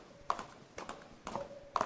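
Horse hooves clip-clop in the video game Star's End, a few spaced hoof strikes landing in an uneven rhythm, fairly faint against a quiet ambient background.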